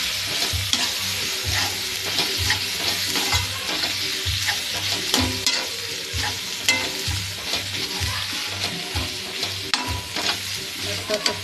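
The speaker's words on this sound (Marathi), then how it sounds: "मस्त असं तेल सुटेपर्यंत आपण भाजून घेणार आहोत शेपू पण व्यवस्थित तेलामध्ये" Dill greens and green chillies frying in oil, a loud continuous sizzle with repeated stirring scrapes against the pan at a fairly even rhythm, close up and without speech.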